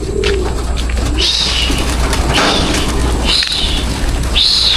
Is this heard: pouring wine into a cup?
no